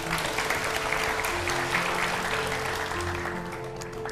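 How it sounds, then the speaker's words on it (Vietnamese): A studio audience claps in sustained, dense applause with low voices and background tones underneath, fading slightly near the end. "mọi người vỗ tay đi nào."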